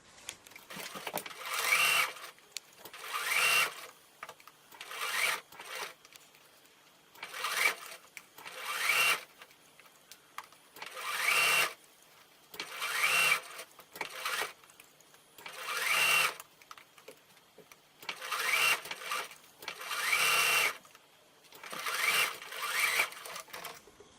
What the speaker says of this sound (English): we're going to sew around the edge